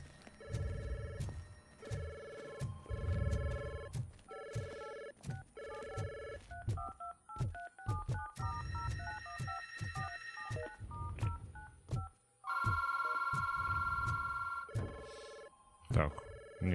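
A telephone rings somewhere underground in RoboCop: Rogue City, repeated electronic ring bursts and tones in short rhythmic groups, fairly loud, with voices around them.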